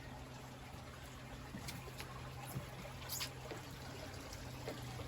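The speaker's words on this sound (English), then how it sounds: "this water feature. Check this out." A garden water feature recirculates water, a faint, steady trickle and pour running continuously without voices.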